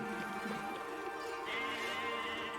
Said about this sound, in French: C'est un mouton.